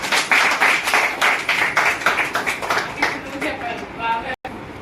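Family members clap along in rhythm during a lively 20th wedding anniversary celebration at home, the steady claps strong at first then thinning out, mixed with voices talking over them.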